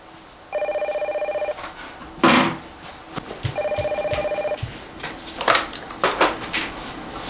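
A telephone ringing in two bursts of electronic trilling rings, with clattering and handling noises between and after them.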